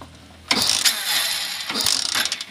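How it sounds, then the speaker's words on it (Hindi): A 2024 Hero Splendor BS7 E20 motorcycle with a starting problem is kick-started twice, each stroke giving a loud, close ratcheting mechanical clatter that churns briefly without the engine catching. "तो यहाँ से बाइक में किक लेते हैं"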